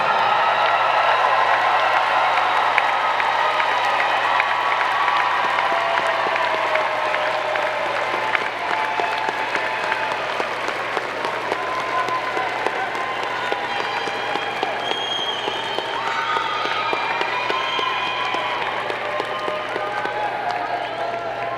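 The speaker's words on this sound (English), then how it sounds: "salute them with your applause" Graduates at a doctoral hooding ceremony during a university spring commencement clap toward their families in a large hall, a long, even wash of applause heard from a distance with faint voices mixed in.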